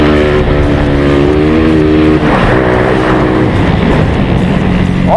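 A motorcycle revving hard through deep mud during a wheelie, its engine loud and continuous with rising and falling pitch, close by.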